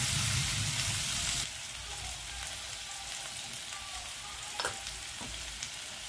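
Basic spices and gravy frying in hot oil in a pan, a loud, even sizzle that drops a notch after a stir, with a few clinks of a utensil against the pan later and no talk.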